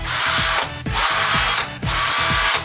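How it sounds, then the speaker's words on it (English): A power drill whirs in three separate bursts of about half a second to a second each, a loud high motor whine with brief pauses between, no voices. "Yes, a drill!"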